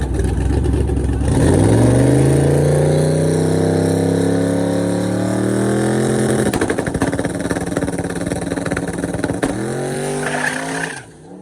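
Drag car with a 5.3 engine launching on a run, loud and close, the engine climbing steadily through its revs for about six seconds before a brief break and another long pull, then cutting off abruptly.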